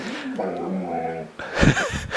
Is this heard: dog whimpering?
yes